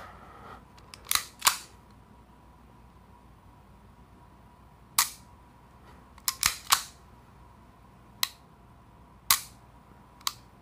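A Sig M11A1 pistol trigger is dry-fired and reset repeatedly, giving sharp, close metallic clicks, some paired, spaced irregularly over quiet background.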